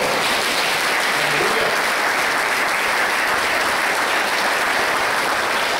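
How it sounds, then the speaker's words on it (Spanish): A church congregation applauds at a deliverance and healing congress, a dense, steady wash of clapping that holds evenly throughout with no break. "¿Cuántos dan un aplauso al Señor?"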